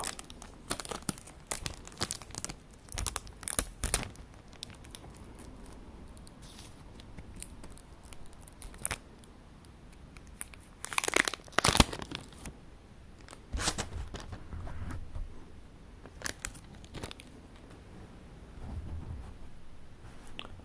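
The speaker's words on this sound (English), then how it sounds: "Very nice to have an easy place that you can just peel off and open the cards." Card game packaging being opened up close, quiet crinkling plastic and paper with sharp tearing and rustling bursts scattered across the stretch, a louder cluster of tearing midway, no talking.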